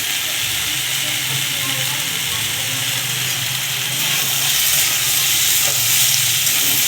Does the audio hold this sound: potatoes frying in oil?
yes